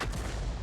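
A self-propelled artillery gun fires a 155 mm round in World of Tanks, a single heavy, booming blast with a deep low rumble that fills the moment, loud and close.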